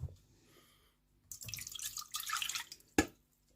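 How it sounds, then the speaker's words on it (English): Water poured into a saucepan from a jug while making a gala pie, a short splashing pour of under two seconds after faint clatter, ending with a sharp knock as the vessel is set down. "in my saucepan is going to go my water"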